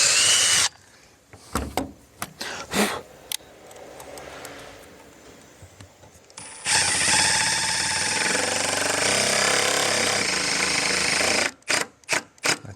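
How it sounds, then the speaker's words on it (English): Power drill boring a larger hole with a 9/64 bit: short bursts of drilling, then a sustained high whine for several seconds, followed by a few quick final bursts, close by. "I'm gonna have to drill a bigger hole"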